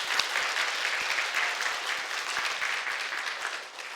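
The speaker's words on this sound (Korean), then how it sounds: "하나님께 영광의 박수 올려드리겠습니다." Congregation at an Easter Sunday service in a Korean church in Winnipeg claps together in steady, full applause lasting the whole span, close and loud with no talking over it.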